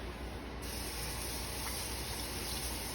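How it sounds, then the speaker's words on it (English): Tap water running steadily while a soup ladle is rinsed, a close continuous hiss of spray. "So I'm just gonna rinse the ladle here."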